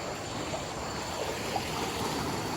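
Water pours steadily over a small dam at a waterfall, a dense, even rush that fills the background without any break.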